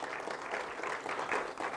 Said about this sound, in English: Let's have a bigger round of applause, everyone.